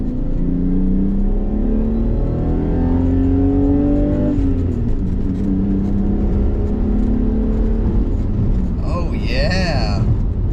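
BMW E34 with a 3.7-litre stroker M30 straight-six on a standalone ECU, revving hard through the gears inside the car, rising engine tones climbing, dropping and climbing again, loud and near under ongoing cabin noise.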